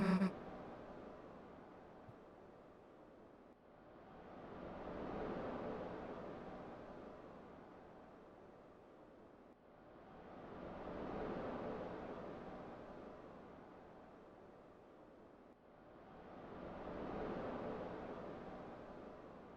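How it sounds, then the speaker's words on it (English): Ocean waves from the video game Deltarune roll in three slow, even swells, each rising to a soft rushing crest and then easing back, with steady low noise underneath. "Waves, yeah."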